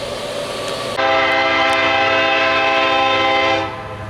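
A freight train horn blares loudly and steadily near Longview at sunset, bursting in suddenly over a low rail rumble, holding for a few seconds, then easing off as the train approaches.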